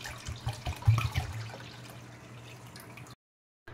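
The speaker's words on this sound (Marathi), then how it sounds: "मी आता या भांड्यात 1 लिटर पाणी" A litre of water pours into a cooking pot to make syrup for moong dal halwa, a close, steady gurgling stream with splashes that thins out before a sudden cut to silence.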